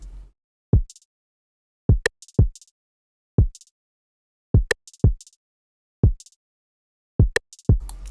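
Deep, punchy kick drum hits in a sparse, syncopated R&B beat pattern, roughly nine thumps over eight seconds, each with a short decaying boom and light high clicks riding along, played loud and clean with no voices.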